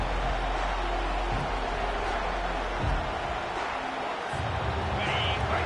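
A stadium crowd at a UCLA college football game keeps up a steady, dense roar that is loud and constant throughout, with faint voices mixed into the din.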